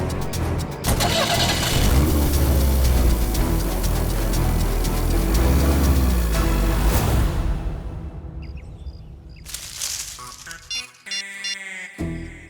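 A car engine cranks and catches, then revs loudly and steadily as the vehicle pulls away and fades out, leaving a few faint scattered sounds afterward.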